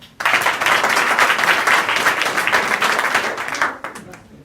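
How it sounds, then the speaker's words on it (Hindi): A school audience breaks into loud, vigorous applause that starts abruptly, holds steady, then tapers off near the end. "एक बार जोरदार तालियां"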